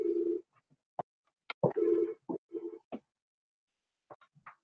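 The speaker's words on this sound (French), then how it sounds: "Je suis navrée pour cet assistant de téléphone que j'imagine que vous entendez." Electronic tones from a telephone answering assistant ringing indoors: several short, uneven bursts of a steady low-pitched tone, separated by gaps, followed by a few faint, higher blips near the end.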